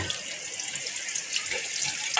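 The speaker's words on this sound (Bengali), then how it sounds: "মশলাগুলো দিচ্ছি তেলের মধ্যে।" Dried red chillies and spices hit hot cooking oil in a home kitchen, giving a continuous, close, bright sizzling hiss that fills the short moment.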